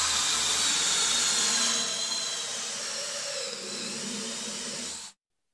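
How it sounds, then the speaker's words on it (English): A 2-inch hole saw on a drill cutting through pine for a wooden guitar stand, a steady whirring grind that starts loud and eases slightly, then cuts off abruptly at the end. "drill a 2-inch hole with this 2-inch"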